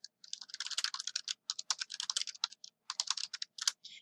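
Rapid keystrokes on a computer keyboard, close and crisp, typed in quick uneven bursts with short pauses between words.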